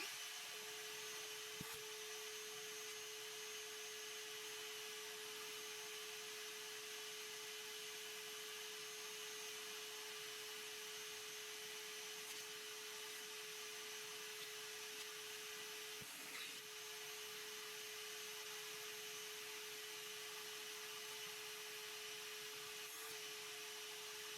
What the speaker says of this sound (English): I'm going to pull out the vacuum here and have that ready to go, just in case there's a lot of fruit flies trying to escape here